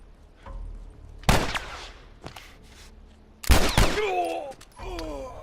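Gunfire during a firefight in The Last of Us Remastered on Grounded difficulty, with two loud gunshot bursts each trailing into ringing echoes and debris, separated by quieter gaps of game ambience.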